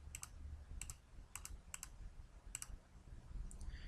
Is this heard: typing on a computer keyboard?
yes